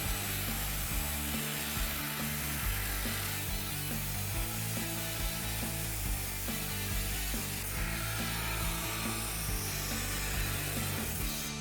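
A power saw cuts through the sheet-metal trunk floor of a Mazda being rebuilt, grinding loudly and steadily for the whole stretch with a dense, harsh roar. No voices are heard.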